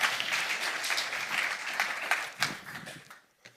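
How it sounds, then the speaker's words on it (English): Audience applause at a high-level international climate adaptation dialogue in Nairobi, a dense steady clapping from a large crowd that fades out over the last second. "join me, please, with a big applause for my colleague, Anju Sharma."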